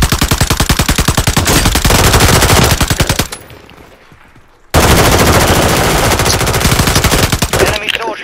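A light machine gun in Call of Duty Warzone fires long, loud, rapid bursts close up, pauses briefly with a muffled lull, then unleashes another sustained burst.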